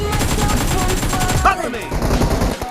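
Dense, loud gunfire from a BGMI mobile battle royale match, with rapid bursts of shots that rattle on continuously and fill the whole stretch, briefly broken by a short game sound before firing resumes.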